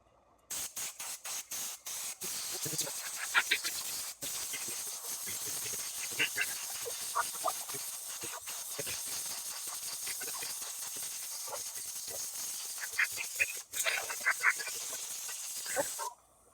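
Cleaner sprays in short hissing bursts onto the carburetor of a STIHL BR420 blower during servicing, with repeated quick spurts at first, then longer steady hisses close to the nozzle.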